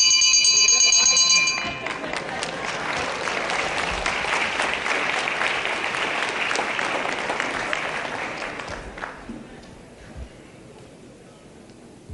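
A ring bell sounds at the end of a round at a televised professional wrestling match, a bright ringing tone at the start quickly swallowed by loud, sustained crowd applause and cheering with a commentator talking over it.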